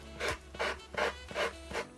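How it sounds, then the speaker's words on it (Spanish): Sandpaper rubbed by hand along the edges of a craft base for fofuchas, in five rhythmic rasping strokes of about a third of a second each, close and fairly quiet, with no talking. "con una lija voy a pasar sobre los filos y así voy a retirar lo que me sobra."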